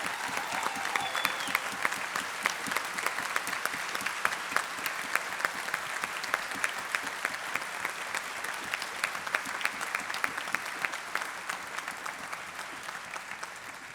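A concert audience at the Citi-NCPA Aadi Anant Festival gives dense, sustained applause. The even wash of many hands clapping continues unbroken from start to finish at a moderate distance.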